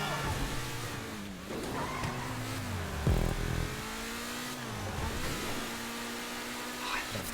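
A car engine revs and accelerates in the racing game GTA 5, with rising and falling engine tones and some tire skidding, loud and continuous throughout.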